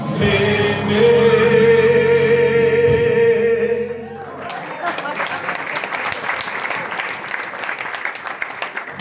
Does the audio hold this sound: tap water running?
no